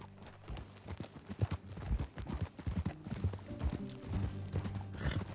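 Horse hooves clop in an uneven trotting rhythm in the video game Red Dead Redemption 2, close and fairly loud, with a brief whinny and faint background music.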